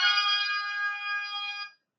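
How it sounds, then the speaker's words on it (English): A custom alarm ringtone plays on an Oppo A5x phone, a bright electronic tone held steadily for under two seconds before cutting off into silence. "this is the custom ringtone we have downloaded"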